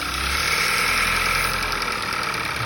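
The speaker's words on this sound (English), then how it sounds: "Unplug it, and you'll see it has a higher idle" A Hyundai Tucson engine idles at a raised speed with its PCV tube unplugged, a steady close mechanical hum and whir running evenly throughout with no talk.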